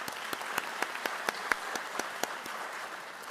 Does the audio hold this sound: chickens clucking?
no